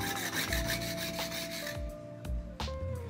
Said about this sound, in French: Donc là on est sur le grain 360 de la pierre diamantée.